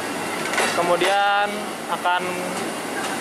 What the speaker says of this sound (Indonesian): ini KRL dari arah Rangkas langsir menuju peron 5 menuju peron 5 dan 6.